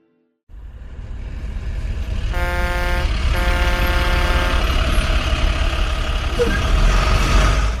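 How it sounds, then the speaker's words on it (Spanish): Constant traffic on a Peruvian highway: a steady, loud rumble of trucks and cars passing, with engine drone and a sustained tonal whine from a heavy vehicle partway through, no voices. "bajo el sonido constante del tránsito"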